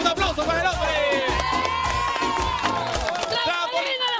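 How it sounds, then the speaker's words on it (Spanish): A beach talent-show crowd applauds and cheers for a man, a loud continuous wash of claps and shouts mixed with sustained tonal voices or music throughout. "¡Un aplauso para el hombre!"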